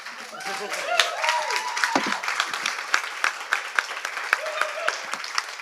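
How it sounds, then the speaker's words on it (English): Audience applause for Jamie at the close of a live afternoon performance, a dense patter of clapping with occasional sharp claps and a brief tonal sound, moderately loud throughout. "Can I get one last round of applause for Jamie as well?"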